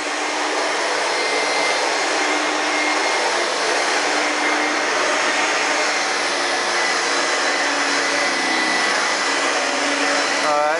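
An upright bagged vacuum cleaner with a carpet brush runs continuously on carpet, a loud, close, steady motor roar and airy whine with no voices.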